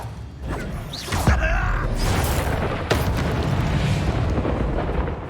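Fire spell cast in the Hogwarts Legacy game: a heavy booming burst of flame erupts after a sharp crack, then a sustained roaring rumble with another crack midway, loud and close.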